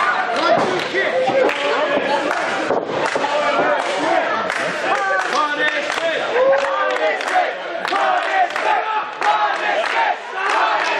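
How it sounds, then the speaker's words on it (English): A wrestling arena crowd roars and cheers for Martinez during a match against Wardlow, a loud, dense wall of voices with shouts and chatter throughout, under a commentator's talk. "And the crowd coming alive for Martinez"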